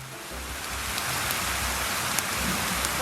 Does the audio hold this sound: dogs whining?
no